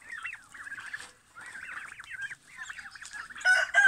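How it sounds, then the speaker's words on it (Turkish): A rooster and turkeys call repeatedly outdoors, with wavering crowing and gobbling cries in several bursts, moderately close, overlapping toward the end. "Bu güzel günde horozum ötüyor."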